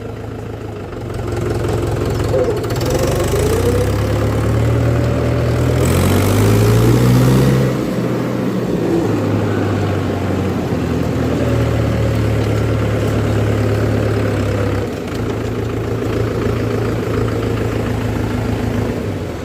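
A second-hand Mahindra 475 DI tractor engine idles loudly and steadily up close, with a brief rise in revs partway through before settling back to a low rumble.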